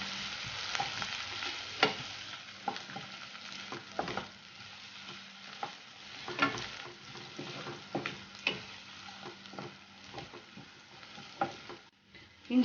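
Chopped ginger, garlic and green chillies sautéing in a pan for chicken rice, a continuous bright sizzle broken by frequent spoon scrapes and stirring knocks, close and steady with no voices.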